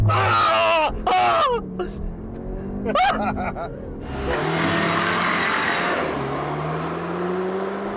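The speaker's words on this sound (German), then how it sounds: "So, Launch Control, was ist zu tun? So, wir schalten hier den Cupra-Modus ein, machen dann ESP aus. Ich bleibe mit dem linken Fuß auf Gas und lass los." Cupra Formentor (2021) doing a launch-control start in Cupra mode with ESP off: a few sharp engine revs and blips, then a loud full-throttle acceleration with rising gear pulls and a roaring wash of noise, heard close up.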